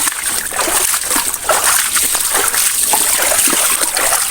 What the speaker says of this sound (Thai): ดูน้ำดูสายน้ำเป็นไง